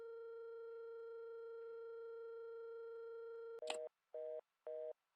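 A steady telephone line tone hums during a call in a Nancy Drew mystery game, then gives way to three evenly spaced beeping pulses, clean and alone.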